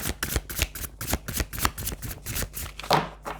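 Tarot cards being shuffled by hand before one or two are drawn, a quick run of crisp riffling flicks in an uneven rhythm, close and clear with no talking.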